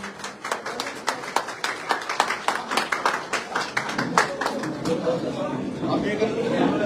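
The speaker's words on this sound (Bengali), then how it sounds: "সবাই একসাথে জোরে করতালি হবে।" An audience at a Trinamool Congress political gathering in Fatehpur, Falta, claps together in a steady, rhythmic beat, each clap distinct and evenly spaced, joined by a looser swell of applause and chatter toward the end.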